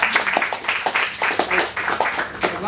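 Audience applauding a poem just read aloud at a resistance rally, with scattered, moderately loud claps in an uneven rhythm.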